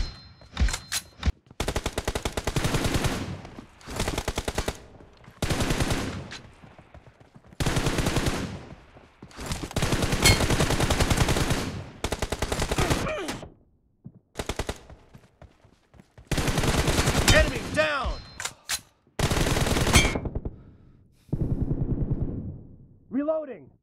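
Long bursts of rapid automatic gunfire in a PUBG Mobile team deathmatch, loud and close, coming in repeated sprays separated by short silences, with in-game voice callouts between some bursts.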